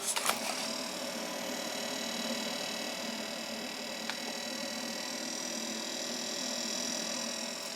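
A 12V cooler runs with a steady, quiet electrical hum and a faint fan-like hiss, continuous, with no talking.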